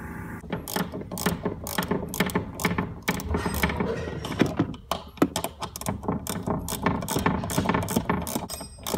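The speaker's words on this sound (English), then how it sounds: "ratchet wrenches are the shit. Gotta love ratchet wrenches." A ratchet wrench clicks steadily while bolts come off the suspension of a Nissan 240SX, with rapid runs of ratcheting broken by metallic clanks and knocks, all close and fairly loud.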